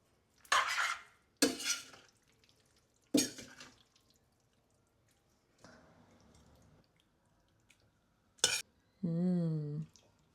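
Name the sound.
stirring cooked pappardelle into harissa rose sauce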